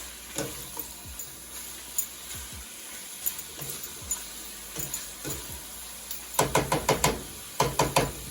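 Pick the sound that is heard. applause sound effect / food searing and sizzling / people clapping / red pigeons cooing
food searing and sizzling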